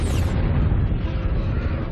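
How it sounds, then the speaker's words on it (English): A deep, rumbling boom stands in for a supernova explosion in a documentary about the Milky Way. It is a dense, continuous low roar that stays loud and steady for two seconds without a clear attack or fade. "A supernova explosion is an incredibly powerful explosion."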